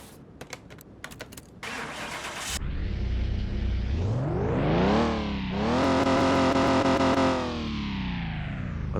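In Car Mechanic Simulator 2021, a modded Liberty Walk BMW M4 engine cranks and fires after a few keyboard clicks, then revs twice, its pitch sweeping up sharply and dropping back, loud and close.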